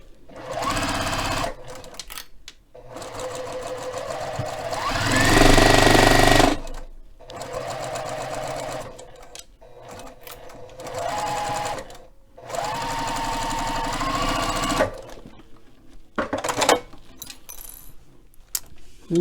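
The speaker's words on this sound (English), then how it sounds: "Let's sew on down." Sewing machine stitching beginner quilt pieces for a confetti star quilt, running in several bursts of steady mechanical whirring separated by short pauses, loud and close with no talking.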